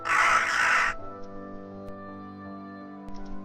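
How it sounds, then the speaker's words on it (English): Crows caw over a rooftop in the video game The Awakened Fate Ultimatum, with a loud burst at the start followed by quiet game ambience and a couple of faint distant calls. "the only thing I hear are the echoing cries of the crows"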